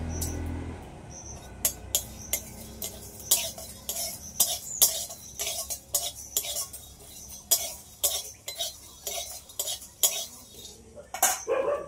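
Cumin and chili being stirred in a pan, a metal utensil scraping and clinking against the pan in quick irregular strokes, close and clear with a faint sizzle beneath.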